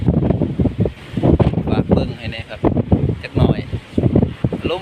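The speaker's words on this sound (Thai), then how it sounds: "ได้ยินแบบเสียงลม" Heavy gusty wind buffets an outdoor microphone in constant rumbling bursts and roars, loud and close throughout.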